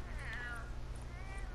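Cat-like meowing from the meow skulls, enemies in a shooter video game, several short warbling mewls rising and falling over a steady low game hum, moderately loud and close, with no talk over them.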